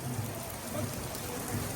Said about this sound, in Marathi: बघा पाऊस